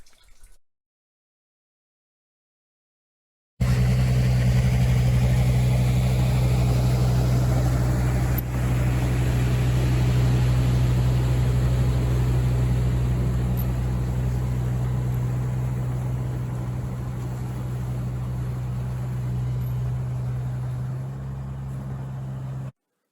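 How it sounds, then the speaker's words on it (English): After a brief silence, a mini hoe's engine runs with a steady, loud, low drone and hum as it drags a Yamaha Enticer snowmobile. It continues evenly to the end, with no voices. "I use my Me phone to record the mini hoe dragging the Yamaha Enticer over to the plow truck here."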